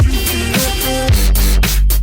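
Dubstep breakdown with a stuttering bass walk-down and chopped vocal samples, loud, dense and rhythmically choppy over heavy low end, no talking.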